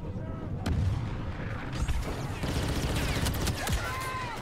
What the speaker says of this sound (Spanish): ¡Granada va!